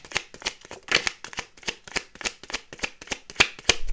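Tarot deck being shuffled, a quick run of crisp riffling card bursts in a steady rhythm, close and fairly quiet with no talking.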